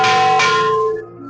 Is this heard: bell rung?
yes